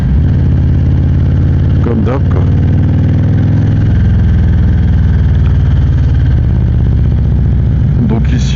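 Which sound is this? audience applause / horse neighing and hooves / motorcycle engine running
motorcycle engine running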